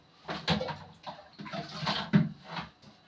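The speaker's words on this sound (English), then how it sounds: "Let me pour some water" Water is poured into a pot of corn for boiling, an uneven splashing and gurgling stream that swells and dips in several surges, close by and moderately quiet.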